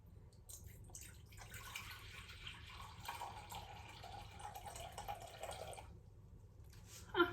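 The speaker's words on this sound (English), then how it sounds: "So I'm gonna start off actually with some water, and I'm gonna add 350 grams." Water is poured steadily into a bowl for sourdough bread, a soft continuous trickle heard close but faint. It lasts several seconds and then stops.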